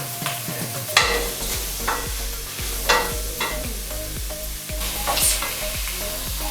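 Chicken frying with chicken masala in a pan while pilau is being cooked, giving a steady sizzle with repeated scraping stirs at intervals, close and fairly loud, with no voices.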